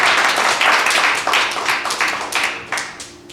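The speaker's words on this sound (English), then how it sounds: "So give yourselves a big round of applause just for being here tonight" A roomful of people at a caucus canvass training in a lounge give a short round of applause, loud and close, with hands clapping in a quick rhythm that fades toward the end.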